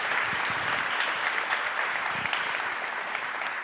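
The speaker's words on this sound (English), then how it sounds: "You're still very good at clapping" An audience at a festival talk session gives sustained, even applause, a thick wall of many hands clapping that stays loud from start to finish.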